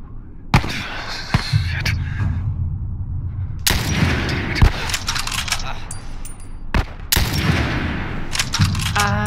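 Repeated gunshots from a single-shot gun in The Last of Us, sharp loud cracks spaced irregularly over ongoing game noise, with faint speech in places.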